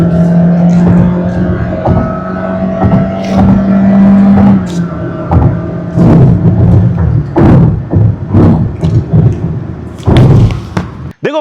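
A 2026 Honda City with a CVT is revved hard from inside the cabin, its engine droning steadily and then surging in repeated bursts with thumps, loud and close.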